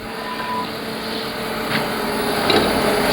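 A spindle gouge shaves steadily against a wooden pepper mill spinning on a lathe, giving a continuous scraping hiss over the motor's hum.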